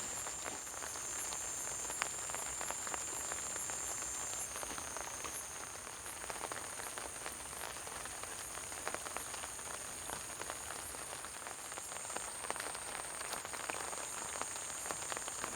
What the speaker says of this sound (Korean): 지금 한 20분 전부터 지금 비가 내리고 있습니다.